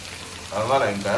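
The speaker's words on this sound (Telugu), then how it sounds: "ఇంకొంచెం ఫ్రై అవ్వాలి" Okra and peanuts fry in a pan with a soft, steady sizzle, partly masked by someone talking nearby.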